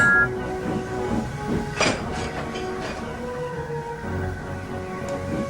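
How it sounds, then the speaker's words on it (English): Animated steam engine labouring as it pushes a rock into snow, with hissing puffs and rail clatter under a musical score, heard at moderate level without talk. "Thomas pushed and puffed and pushed as hard as ever he could."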